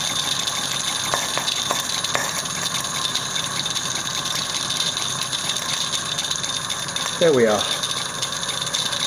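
An old Accucraft Ruby live steam model locomotive, freshly fitted with new O-rings, runs with a steady mechanical ticking and whirring and a brief rising squeal near the end, while someone speaks briefly.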